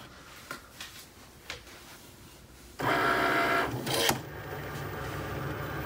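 A Cricut cutting machine runs a scoring wheel across a Christmas card, starting with a few light clicks before a steady mechanical whir kicks in at mid-volume, briefly dips, then carries on as a continuous drone.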